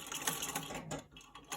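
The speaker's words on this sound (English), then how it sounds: "So I'm going to sew to the clipped edge," A sewing machine stitching a pillow square hums and clatters in a fast, continuous rhythm, with a short slowdown midway before speeding up again, fairly quiet and close.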